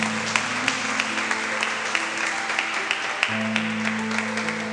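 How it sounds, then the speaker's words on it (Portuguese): A church congregation applauds, steady dense clapping mixed with sustained organ or keyboard chords underneath. "Igreja, aplauda o Senhor"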